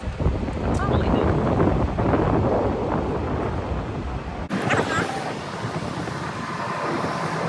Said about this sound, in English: I see the wind blowing here everywhere